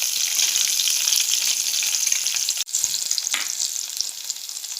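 Garlic hits hot oil in a frying pan for sweet corn upma, giving a steady close sizzle with brief stirring clinks and a short dip partway through, no talking.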